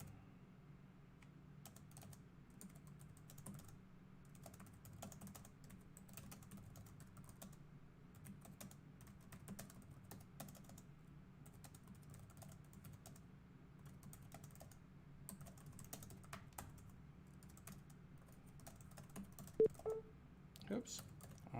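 Fingers type on a laptop keyboard, a quiet, steady stream of soft key clicks running for about twenty seconds, with a few sharper taps near the end against low background hum.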